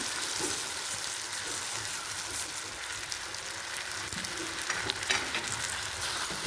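A moong dal mixture is stirred in a sizzling pan, giving a steady close frying hiss with scraping stir strokes throughout and no talk.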